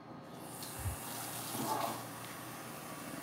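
Tap water runs quietly and steadily into an L.O.L. Surprise Bubble Surprise Deluxe toy to refill it, a soft continuous pour with a faint splash partway through.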